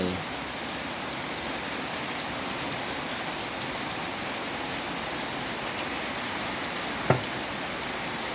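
Steady rain falling on surfaces outdoors near rice fields, a constant dense hiss of drops with one sharp tap late on, no voices.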